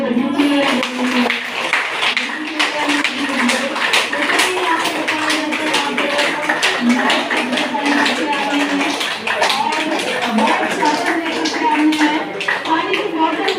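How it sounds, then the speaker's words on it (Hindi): An audience claps for a woman at a Ceragem health center testimonial, a sustained round of close, dense applause with a voice talking over it throughout. "तो अच्छी वाली ताली भाभी के लिए बनी चाहिए।"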